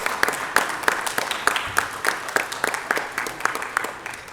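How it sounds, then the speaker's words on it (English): Applause at a city council meeting honouring visiting elementary school children, a steady patter of distinct claps from a modest group, fairly close and even in rhythm. "Please, let's give them another round of applause, kids."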